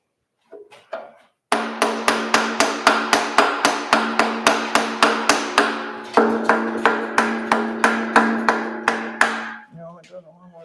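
Steady hammer blows ring out on a part of a 5.9 Cummins engine in a Ram, roughly two dozen loud metallic strikes in a fast even rhythm with a short pause midway, and brief voices before and after.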